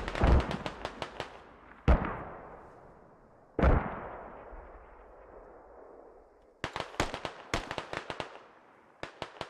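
Grenades explode in a video game, heard as several sharp booming blasts with long rumbling decays, separated by bursts of rapid crackling gunfire, fairly quiet overall and with no talking.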